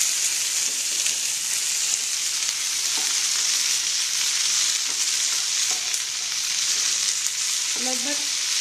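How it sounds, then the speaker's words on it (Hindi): Chopped okra (bhindi) frying in a pan, a loud, steady hiss of sizzling oil throughout, with occasional faint stirring scrapes and no talk. "हम उसमें जो हमारी भिंडी कटी हुई है वो डाल देंगे। और इसको चलाते रहेंगे।"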